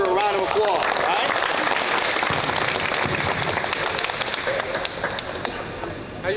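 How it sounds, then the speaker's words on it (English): Basketball campers applaud a speaker at a camp talk, a dense, steady wash of clapping filling the room for several seconds before thinning slightly near the end, with some voices mixed in. "Let's give Tavon Parker a round of applause, right?"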